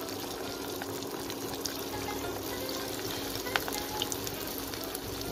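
Beef shami kabab patties, also called tikia kabab, frying in hot oil, with a steady soft sizzle and bubbling that holds throughout and a few faint pops rising above it.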